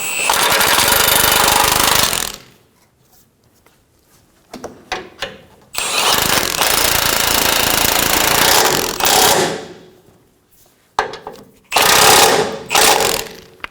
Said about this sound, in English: And then we can go ahead and snug them down.